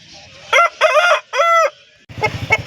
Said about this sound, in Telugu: మీరు చూస్తున్న ఈ కోడి నెమలు కూడా